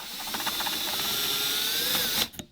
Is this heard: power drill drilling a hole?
yes